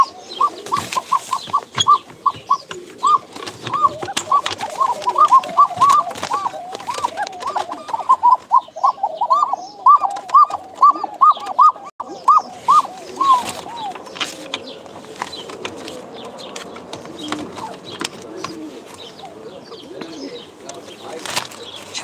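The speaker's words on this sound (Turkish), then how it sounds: "Dört tane de kumru var. Her taraf kuş." Turtle doves coo in repeated soft, rhythmic phrases amid frequent wing flaps and rustling, with other birds chirping nearby and occasional voices in the background.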